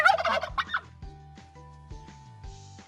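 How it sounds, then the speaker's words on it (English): A turkey lets out a rapid, rattling gobble at close range, followed by quieter clucking calls over a soft background tone. "A turkey says gobble gobble."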